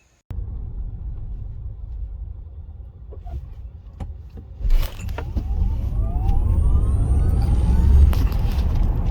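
A 2021 Tesla Model S Long Range electric car accelerates hard, with a steady low road rumble and tire roar that builds and thickens over several seconds, with a faint rising whine near the end.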